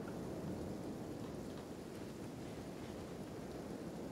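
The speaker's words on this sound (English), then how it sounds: "Seems to be just regular rain." Steady rain in the video game Kenshi along a coastline, a dense even hiss with a low rumbling wash, constant and fairly faint throughout with no talk.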